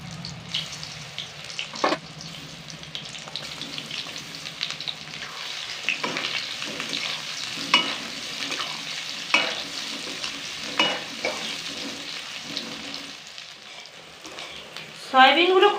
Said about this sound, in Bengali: এবার এই তেলের মধ্যেই সমস্ত সয়াবিনগুলোকে ভেজে নেব।